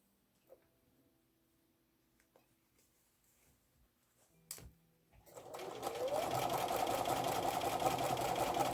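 A sewing machine starts after a few quiet clicks and handling sounds, then runs steadily with a fast continuous whirring stitch while piecing a quilt block, close and loud.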